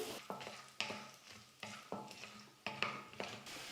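Peanuts, urad dal and red chilli sizzle in hot oil while a spoon stirs them in repeated scraping strokes, each stroke giving a sharp clatter over a soft frying hiss, close and quiet.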